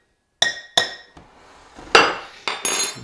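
A metal tablespoon clinks sharply against a bowl while all-purpose flour is measured, five or six distinct bright strikes spaced irregularly, close and loud, with no talk.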